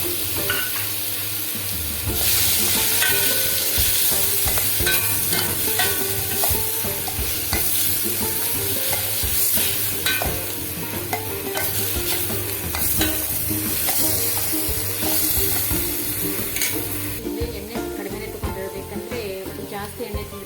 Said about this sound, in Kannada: ಕಟ್ ಮಾಡಿ ಇಟ್ಕೊಂಡಿರೋ ಈರುಳ್ಳಿ ಹಾಕ್ತಾಯಿದ್ದೀನಿ ಇವಾಗ.